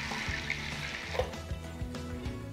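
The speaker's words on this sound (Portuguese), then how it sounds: "colocar uma água limpa aqui na panela de pressão" Clean water splashes and trickles steadily into a pressure cooker holding drained hominy corn, a close, continuous pouring sound with small bubbling bursts.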